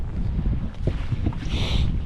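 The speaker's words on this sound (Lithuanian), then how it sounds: "Vėjas drasko." Strong wind buffets the microphone in a heavy, continuous roar with low rumbling gusts, out in the open in the middle of a lake, with no voices.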